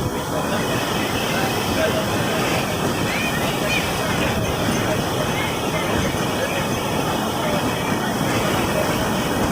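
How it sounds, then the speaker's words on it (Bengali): Roaring sea waves breaking on a beach in strong wind at high tide, a dense, loud, unbroken rushing wash with no distinct individual breakers standing out. "শুনতে পারলে তো কীরকম মানে সমুদ্রের তর্জন গর্জন"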